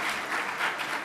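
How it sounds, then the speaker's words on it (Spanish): Applause from a crowd at a literary talk event, a dense wash of clapping hands that stays steady through a brief moment. "gracias por el aplauso."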